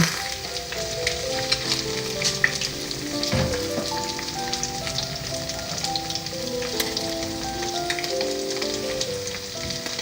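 Continuous crackling sizzle of potato pancakes frying in a pan, with faint background tones and occasional pops throughout.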